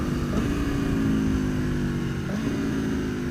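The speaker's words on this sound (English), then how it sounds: "Let's listen to some downshifts." A Tuono 1100 Factory motorcycle engine, being broken in, rumbles loudly up close, its pitch dropping and surging as it shifts down through the gears.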